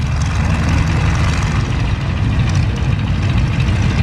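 A vintage airplane engine idles just after startup at the Flying Circus Airshow in Bealeton, Virginia, a loud, steady low rumble with a propeller throb, heard close and alone.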